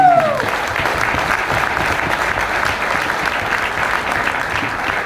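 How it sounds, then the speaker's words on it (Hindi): Loud, steady audience applause at a motivational talk, a dense wash of clapping close up after a brief tonal sound at the start. "एक जोरदार ताली"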